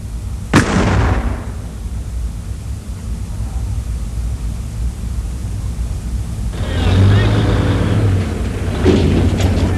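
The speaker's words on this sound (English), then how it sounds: "This is the M102. Big bang for a little guy." An M102 howitzer fires at a training range: one sharp, heavy boom near the start rolls off into a long low rumble, followed later by a broader burst of noise and rumbling.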